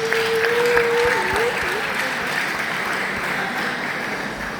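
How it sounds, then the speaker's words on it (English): A school crowd applauds graduating high school students at a graduation ceremony in Abuja, sustained clapping with a tonal whistle or cheer early on and a faint voice at the start, loud and steady before slowly easing. "Please can we give a round of applause to these graduating students?"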